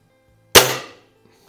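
A single sharp shot from an Anschutz 335 spring air rifle firing a pellet indoors in a garage, a close crack with a short ringing decay and a faint thud just afterward.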